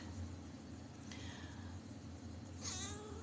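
A pet cat named Siren meowing indoors, two faint drawn-out meows spaced apart over a steady low hum.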